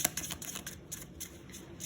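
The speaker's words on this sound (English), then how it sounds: "So I'm just shuffling up the cards here" A deck of playing cards being shuffled for a tabletop game, heard as soft rapid riffling and papery clicks in quick succession, close and fairly quiet.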